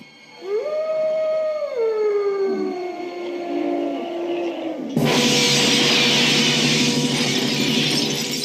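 Sustained howling opens a horror film's title sequence, a loud rising wail with long gliding harmonics, then a sudden burst of shattering window glass and dense noise that continues to the end.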